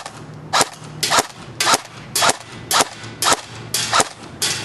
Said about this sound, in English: First shot might be sighting in just to make sure I know what I'm hitting.